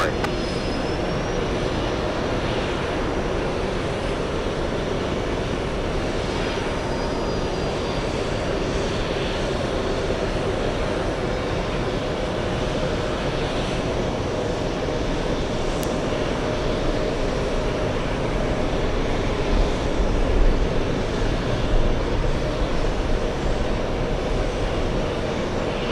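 An airliner lands at JFK airport, a loud steady broadband roar of jet engines sustained throughout and swelling slightly near the end.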